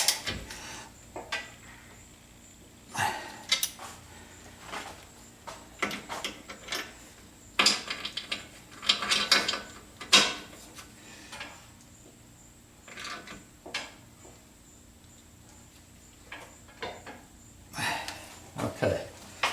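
A wrench tightens the bolts on the vacuum reservoir tank support of a 1976 Corvette restomod, giving irregular close metallic clicks, scrapes and ratcheting bursts with short pauses, loudest near the middle and the end.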